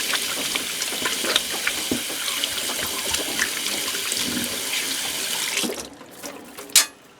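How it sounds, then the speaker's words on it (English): Hands are scrubbed under a running kitchen tap, with loud continuous water splashing into the sink for several seconds before the flow is cut off and a last few drips and knocks follow. "Wash my hands really good"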